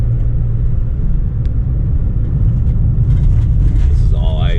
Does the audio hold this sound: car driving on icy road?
yes